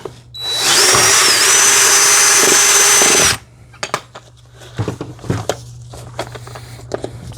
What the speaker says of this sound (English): let's go ahead and drill that bigger hole real quick